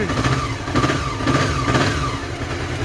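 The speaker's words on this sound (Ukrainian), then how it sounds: "у нього такий холостий має бути" A Honda CB 500 motorcycle engine idles steadily at close range with warm cylinders, a continuous low rumble with a faint uneven pulse and no speech.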